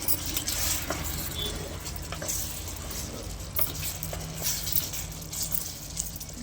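A spoon stirring cooked tomato curry in a hot pan, continuous soft sizzling and scraping close by with a steady texture, no talking.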